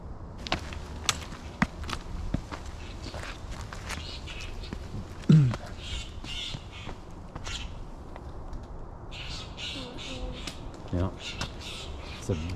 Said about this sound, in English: bird attacking a squirrel.